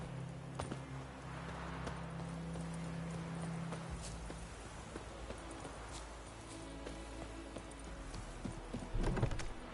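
Roach, a horse in The Witcher 3, clip-clops with steady hoofbeats at close range over a low game ambience and drone, slowing toward the end with a brief louder thump.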